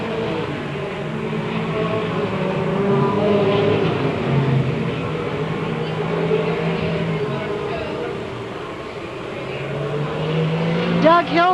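Stock car race engines drone steadily at a distance through a 1993 MASCAR feature, overlapping roars rising and falling as the pack circulates, with a commentator's voice talking over the engine noise.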